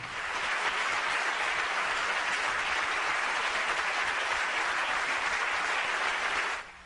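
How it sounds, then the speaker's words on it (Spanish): Lawmakers in the Catalan Parliament rise in a standing ovation after a vote on a referendum on separation from Spain: a continuous, full roar of applause that holds evenly for several seconds and then cuts off abruptly. "Y ovación de pie."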